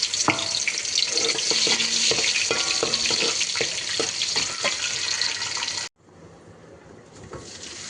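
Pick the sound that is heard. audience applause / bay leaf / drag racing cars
bay leaf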